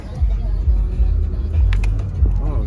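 A low, continuous rumble of cars and road traffic crawls along a crowded street on the Fourth of July, loud and close, with voices talking over it.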